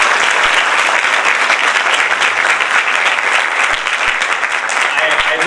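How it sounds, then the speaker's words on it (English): A large audience at a university event at NLU Delhi gives a loud, sustained round of applause. The clapping is dense and continuous for about five seconds, with no pauses. "Guys, can you please have a round of applause for sir again?"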